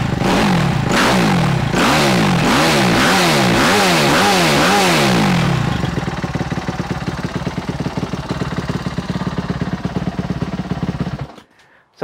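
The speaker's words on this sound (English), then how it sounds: "So that's my dirt bike." A dirt bike engine revs hard in repeated rising-and-falling bursts, then settles into a loud, rough idle with exhaust slapping before cutting off.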